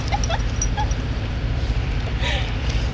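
Two dogs playing together in the snow during a snowstorm give soft whimpers and yips over steady wind-like rumble, with a person talking close by.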